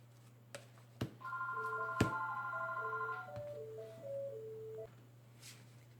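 A telephone rings faintly indoors with a short electronic melody of stepped tones, repeated twice, among a few sharp clicks in a quiet room.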